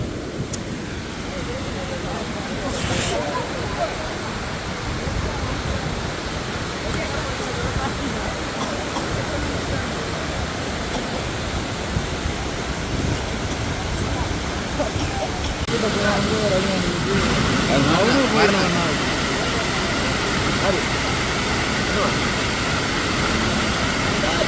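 Water rushes over a waterfall at Iranamadu in Kilinochchi as a steady broadband roar, with people talking over it throughout and the roar growing slightly louder toward the end.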